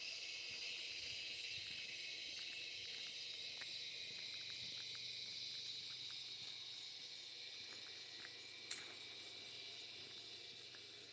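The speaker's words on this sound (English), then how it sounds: "Can anybody hear John Cicada singing?" Steady, continuous high-pitched buzzing of a cicada singing outdoors, constant and moderately loud throughout, with a brief sharp click near the end and no talking.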